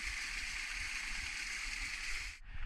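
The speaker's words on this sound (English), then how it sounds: "I got some good footage of a waterfall" A small waterfall pours like water gushing from a pipe, a faint, even hiss of falling water that holds steady, briefly dips near the end, then resumes.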